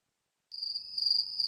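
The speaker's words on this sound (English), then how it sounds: "Oh, crickets." A steady cricket chirp starts abruptly partway in and trills on continuously, fairly close and clear against an otherwise quiet background, with no talking.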